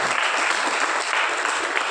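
An audience gathered for Acharya Devnandi Maharaj's sermon at Kunjvan, Udgaon, breaks into strong, sustained applause, close and even, with no speech over the clapping.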